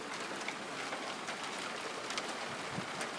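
Hail falling during a hail storm, a steady dense hiss of ice pellets striking surfaces with scattered sharper ticks, moderately loud and continuous.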